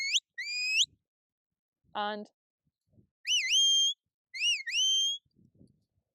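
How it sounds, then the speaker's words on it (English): Sheepdog command whistles used to send a working dog left and right: sharp, loud rising and warbling blasts sounded alone in separate bursts, with a brief lower vocal tone between them and a short spoken word. "the most common whistles used are to the right and to the left"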